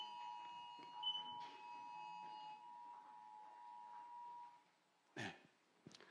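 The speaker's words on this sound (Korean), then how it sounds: "지금 비상 이제 경보 울리지 빨리빨리 끄세요" Mobile phone emergency alert alarm sounding indoors during a church sermon, a steady electronic tone with layered harmonic beeps holding for several seconds before stopping, followed by a couple of brief thumps or handling noises.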